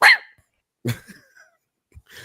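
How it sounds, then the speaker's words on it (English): A dog gives a few short, separate barks, the first one loud and close, followed by quieter yelps with silence between them. "when she does bark"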